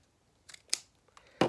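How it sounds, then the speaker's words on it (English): Scissors snipping through ribbon at a crafting table while trimming a gumball machine decoration, three or four short crisp cuts spaced irregularly, the last one loudest and close, with no talking. "I'm gonna go in and cut this ribbon right here so it's not in my way."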